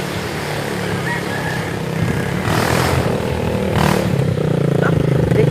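A motorcycle engine runs steadily nearby, its rumble rising slightly in the second half, with a faint voice briefly audible.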